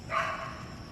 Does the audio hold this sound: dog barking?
yes